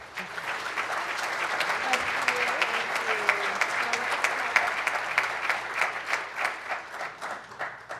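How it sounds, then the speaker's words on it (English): An audience at a realtors and home builders membership meeting breaks into warm applause to welcome a new member, dense steady clapping sustained for several seconds. "please give Cindy a nice round of applause and welcome her."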